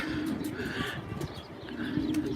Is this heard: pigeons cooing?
yes